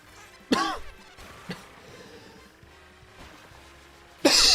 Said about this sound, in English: A lot of coughing.